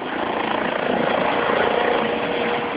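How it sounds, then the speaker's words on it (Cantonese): A rescue helicopter used by Hong Kong's Civil Aid Service for mountain casualty evacuation drones with a steady rotor-and-engine hum, constant and moderately loud throughout. "到山上拯救傷者，用直升機送去醫院。"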